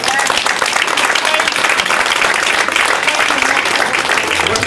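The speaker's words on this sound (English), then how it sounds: "Let's give him a round of applause." Dense, loud applause from an audience at a political rally, a steady wash of many hands clapping together throughout, with crowd noise and voices blended in.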